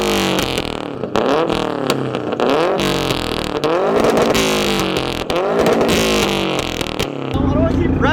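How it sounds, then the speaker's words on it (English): Loud, close revving of a car fitted with a Tomei Expreme Ti titanium exhaust, the engine climbing and dropping repeatedly in sweeping pitch rises with a raspy rumble, then settling to idle. "Rev the car, but like, I want to hear it."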